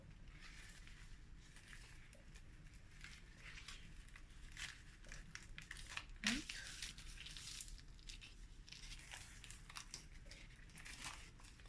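A sheet of nori for maki sushi is folded in half by hand, giving soft crinkling and crackling with one sharper crisp crease near the middle, faint and close over low background noise.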